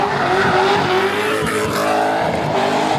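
Drift car sliding sideways at a drift event, its tyres squealing in a steady sustained screech over loud, continuous engine roar, close and constant throughout.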